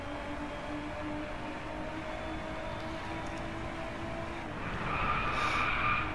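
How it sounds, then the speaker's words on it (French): Lotus car in the racing game DriveClub, a steady engine hum that swells near the end into a loud skid with squealing tires. "Elle dérape beaucoup cette voiture."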